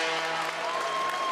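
Supporters in a water polo crowd applaud an attacker during a Civitavecchia versus Camogli match, a steady, dense wash of clapping and crowd noise with a faint voice over it.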